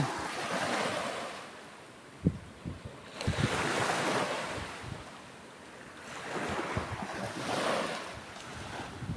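Atlantic Ocean waves wash onto a quiet white-sand beach in slow swells, rising and falling softly with wind buffeting the microphone and no voices.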